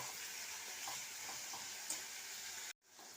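Onions fry in hot white oil with green and black cardamom, cinnamon, cloves and dried red chillies, giving a steady, soft sizzle and hiss throughout, broken briefly by a short gap near the end.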